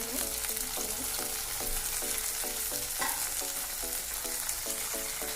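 Ingredients for chicken gravy fry in a pan with a steady sizzle while a utensil stirs and scrapes in a regular rhythm, close and alone with no talking.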